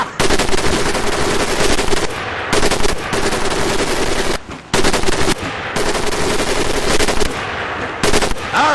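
An M1919A4 .30 caliber machine gun fires in the Medal of Honor: Pacific Assault video game, loud sustained automatic bursts in several long strings separated by brief pauses, with clattering mechanical action throughout.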